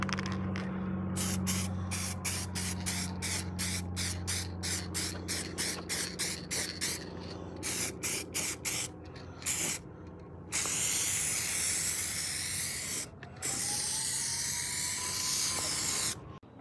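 An aerosol spray can lays a final coat of paint on Nissan 240SX window parts: rapid, regular bursts of hissing spray, then longer continuous sprays, close and fairly loud.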